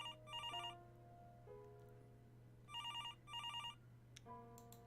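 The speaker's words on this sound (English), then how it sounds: "And the phone rings again." A telephone rings in two bursts of rapid trilling, each burst a double ring, clear over a constant low hum with soft tones in between.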